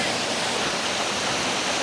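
Gunung Pulai waterfall roars as a steady, dense rush of falling water, loud and close, unbroken throughout with no voices audible.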